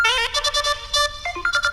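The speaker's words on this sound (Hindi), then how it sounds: "फोन बज रहा है तुम्हारा।" A phone ringtone plays loud and clear, a bright repeating melodic chime with short pulsing notes and no voices over it.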